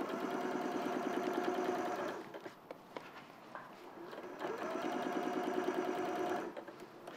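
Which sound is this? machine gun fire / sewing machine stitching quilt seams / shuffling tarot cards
sewing machine stitching quilt seams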